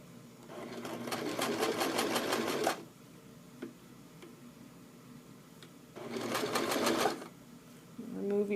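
Domestic sewing machine stitching wool cut from a sweater, running in two bursts of roughly two seconds and one second with a quiet pause between, fairly close and steady.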